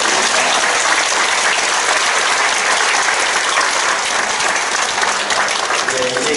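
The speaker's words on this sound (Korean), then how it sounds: "다시 한번 감사의 박수 드리겠습니다." Congregation applause of thanks during a Korean church ordination service, a dense, steady clapping that fills the whole stretch at full volume with no break.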